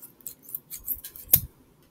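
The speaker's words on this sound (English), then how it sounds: "Do you see what scissors can do?" Scissors snip through a blob of edible slime made with sugar and spice, a few faint squishy handling sounds leading up to one sharp, close cut near the end.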